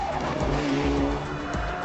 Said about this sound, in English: Gary Jennings holds onto his lead, and at times the back of the Lancer